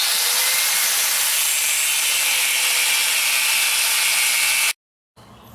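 Quarter-inch steel being cut during a mini bike torque converter repair makes a loud, steady, harsh grinding roar close by, running continuously before stopping abruptly near the end.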